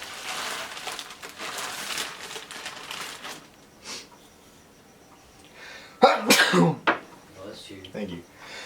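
In a home kitchen during salmon-and-rice cooking, one loud, close sneeze bursts out after some clattering and talk, followed by a few softer rustles.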